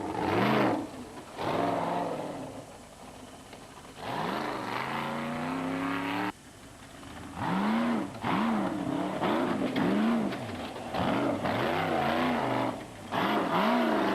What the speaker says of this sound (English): 7-litre Porter engine growling behind them and ready for some serious punishment